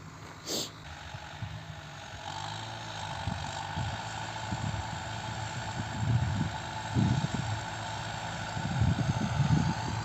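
A tractor engine drones steadily while pulling a row-forming ridger through a muddy cotton field, a low continuous rumble with a brief higher whine early on and periodic heavier surges as the load varies.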